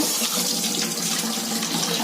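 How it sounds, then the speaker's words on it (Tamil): Raw white rice for adhirasam being rinsed in water, a loud, steady splashing and running-water wash close up, with no voices. "நம்ம இப்ப இது என்ன செய்யறோம்னா 2-3 தடவை நல்லா பிசைஞ்சு கழுவிட்டு ஊற வச்சிடலாங்க."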